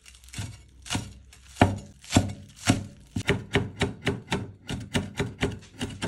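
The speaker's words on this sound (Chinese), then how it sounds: "先把花椒稍微切一下，大概切碎了以后，就和到葱一起切。" A kitchen knife chops Sichuan peppercorns together with scallions on a cutting board, first in spaced single thunks, then in a quicker, steady run of close, crisp strikes with no talking.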